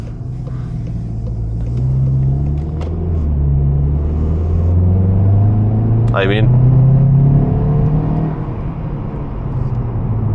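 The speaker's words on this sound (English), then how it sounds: "this car rips. This car is so fast." A 245 hp VW Golf 7.5 GTI Performance engine pulls hard under acceleration, a loud steady rumble rising in pitch through the gears from inside the cabin, with a person speaking over it.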